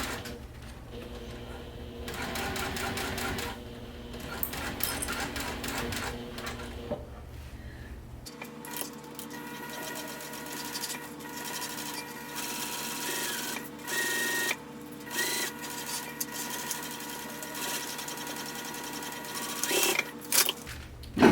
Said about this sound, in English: I'm going to sew all the way around, well, the sides and the bottom, of course, and I'm going to back stitch at the top